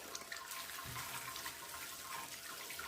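Sparge water running steadily from a tap during homebrewing, a constant close hiss and trickle of flowing water with no talking.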